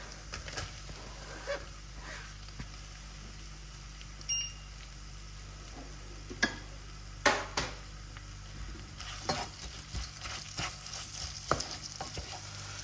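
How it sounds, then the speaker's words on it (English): Onions frying in a pan for pilau rice give a low background sizzle, broken by irregular stirring clatters and scrapes close by, with a faint beep early on. "Now it's time to add the onions."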